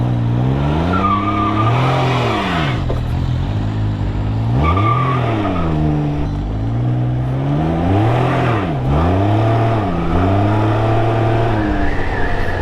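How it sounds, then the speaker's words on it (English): A 2023 Can-Am Ryker three-wheeler spins its rear wheel, the engine revving hard in repeated rising and falling sweeps over a continuous loud tire squeal, close and steady throughout with no talking. "Yeah, you can definitely spin the back wheel pretty good here."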